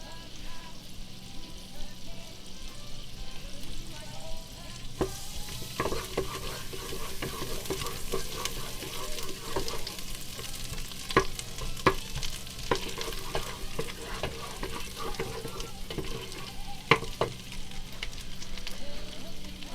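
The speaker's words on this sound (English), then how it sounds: "Let that butter melt for just a second." Butter melts and sizzles in a hot pan, a steady close frying hiss with occasional stirring clicks and scrapes and a voice now and then.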